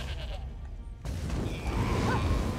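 A goat in a video game bleats once, a short wavering cry partly masked by busy game noise and low rumbling effects.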